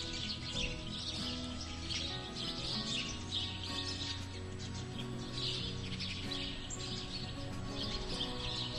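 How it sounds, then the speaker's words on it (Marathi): Sparrows chirp and twitter in a busy flock, many quick high calls overlapping continuously at moderate distance, over a soft steady tonal background with no talking. "ऐकताय ना हा चिवचिवाट?"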